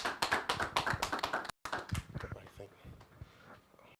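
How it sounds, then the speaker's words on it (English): Audience applause at a stakeholders dialogue event, sharp close claps that start brisk and loud, break off for a moment, then resume more sparsely and taper off, with some voices underneath. "A round of applause for him, please."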